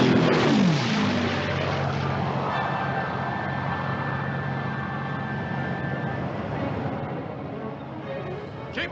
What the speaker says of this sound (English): they were being launched and catapulted from the ship as fast as possible